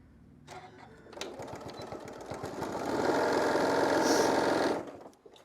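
Sewing machine stitching across the top of a quilted shoulder wrap, a few short starting bursts for a back tack, then a steady fast whirring run that stops abruptly, close up with no speech.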